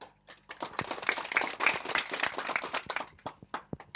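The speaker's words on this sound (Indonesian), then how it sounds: "kita berikan tepuk tangan dulu" Applause from a youth organization gathering, a crowd clapping in dense irregular bursts that rise and fall over several seconds, fairly close.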